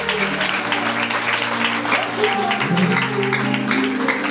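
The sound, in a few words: congregation applause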